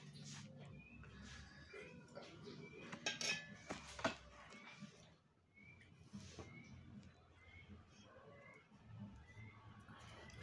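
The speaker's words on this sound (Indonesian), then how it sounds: "pecahan piring" Pieces of a broken, discarded plate clink together in sparse, light, ringing taps, a few sharper knocks clustered near the middle, over a quiet background.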